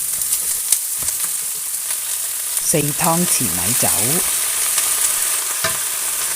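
Bok choy with garlic and dried shrimp stir-fries in a wok over high heat, a loud continuous sizzle with spatula scrapes, while a voice speaks briefly partway through.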